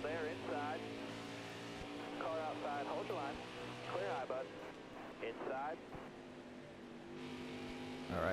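A NASCAR stock car's engine in the NASCAR Heat Ultimate Edition+ racing game, with a poorly performing engine, holds a steady droning whine throughout as someone talks over it.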